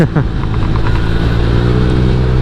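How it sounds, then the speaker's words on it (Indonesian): Engine of a Honda Vario 150 scooter-style motorcycle fitted with a 58 mm piston, running steadily and loud at close range with a low droning hum and no talk over it. "Respon engine-nya juga bagus lagi"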